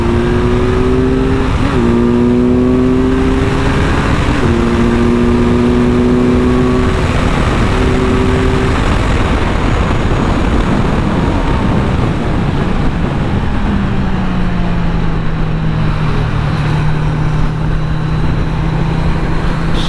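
A Honda CBR650R motorcycle accelerates hard on a highway, its engine note climbing through several gear changes, then settling into a lower sustained drone over loud wind rush.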